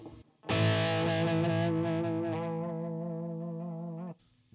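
An electric guitar rings out a sustained distorted power chord with a chorus-like effect, loud and close, held for several seconds before it cuts off.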